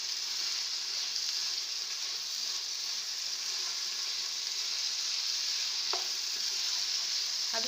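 Green onion tops stir-fried into chicken fried rice give a steady, close sizzle throughout, with a brief utensil clink near the end and no talking.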